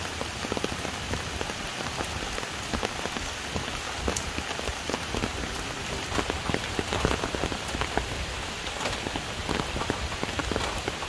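Steady rain patters on a surface close by throughout, a dense hiss with scattered louder drops, falling over an outdoor cooking setup where curry chicken back and cornmeal dumplings are being made.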